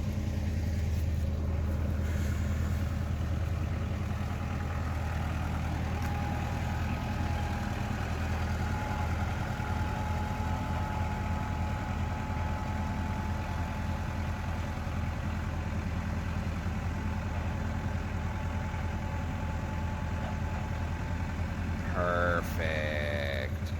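Hot rod car engine idling while warming up, a steady low rumble held evenly throughout with no revving, set back a little in a workshop, faint voices under it near the end.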